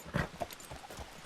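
Horse hooves clip-clopping in the game Red Dead Redemption 2, a short burst of a few faint, uneven thuds at a galloping pace.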